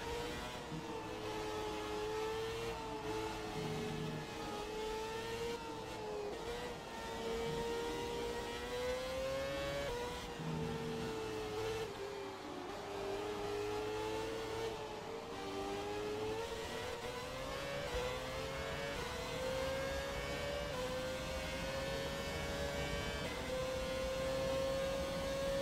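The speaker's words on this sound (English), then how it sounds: "I'll let you hear the engine noise for a bit." A Renault Formula 1 car engine in a racing video game screams at high revs, pitch climbing and dipping as it shifts and corners, steady and loud throughout with no talking.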